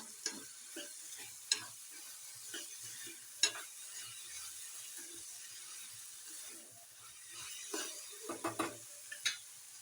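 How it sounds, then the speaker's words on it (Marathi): Matar cauliflower sabzi (peas and cauliflower vegetable) cooks in a pan with a soft sizzle, broken by scattered clicks and scrapes of stirring and a lid, fairly quiet and close with no speech. "मस्तपैकी भाजी चाललेली आहे"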